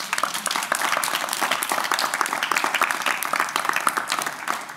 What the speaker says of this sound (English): can we get a round of applause for Alice, please?